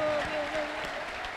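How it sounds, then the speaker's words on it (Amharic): A church congregation bursts into brief applause, a short wash of many hands clapping together under a voice and faint music. "እስኪ አጨብጭቡ ከዚህ በላይ"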